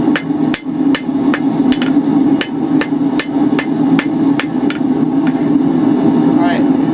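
A hammer strikes hot steel while forging a taper on a drive hook, about a dozen sharp, ringing blows in a steady rhythm, close and loud over a low workshop hum.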